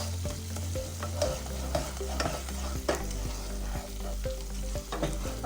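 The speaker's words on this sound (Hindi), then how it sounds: "इसको मैं मज़ीद जो है वो 5 से 10 मिनट के लिए भूनूंगी अच्छे से" Onion and masala fried in a pan, with a steady sizzle under repeated spatula scrapes and knocks every second or so, close and even, nobody talking.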